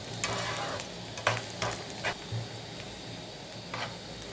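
Chicken samosa filling frying in a pan as it is stirred until browned, with a faint steady sizzle broken by several light scraping strokes, quiet and close.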